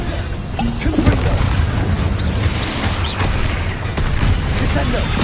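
A Confringo blasting spell detonates in Hogwarts Legacy, with booming explosions and crackling bursts recurring over a dense, steady layer of game noise and voices.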